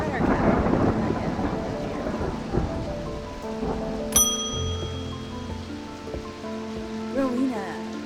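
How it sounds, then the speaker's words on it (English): Video game thunderstorm with steady heavy rain and a sharp crack of thunder midway, followed by lingering low rumbles and tonal game sounds. "I need Saint Cedric's thunder, and quickly while the storm is raging."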